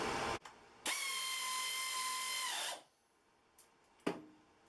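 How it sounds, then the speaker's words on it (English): An air ratchet spins a nut onto a water pump on a 1968 Fiat 850 Spider, a loud whirring burst of about two seconds that then cuts out, followed by a couple of faint clunks and a sharp tap. "I've got my little air ratchet. I'm just going to run it in there real quick, so noise alert."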